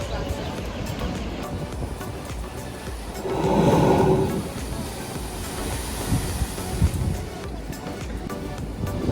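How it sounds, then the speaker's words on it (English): Ocean surf roars continuously at the Spouting Hole blowhole on Kauai's southern coast. Midway, a louder rushing whoosh swells up and fades back into the waves. "watching the spouting hole shoot water"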